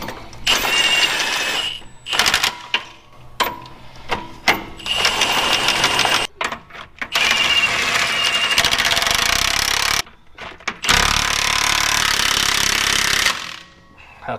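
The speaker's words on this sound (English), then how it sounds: "we're gonna tighten the U-bolts now" Leaf spring U-bolts on a big truck are run down with a power impact tool, the 3/4-inch nuts tightened in loud, harsh bursts of rapid hammering. Short pauses fall between the runs.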